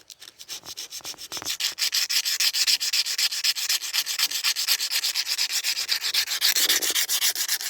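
Steady, rapid back-and-forth scraping on the top of an old piston from a 1948 Farmall Cub tractor, loud and close, with a rhythmic rasping stroke repeated continuously throughout, no voices.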